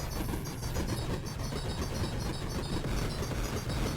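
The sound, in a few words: space train in the video game Karateka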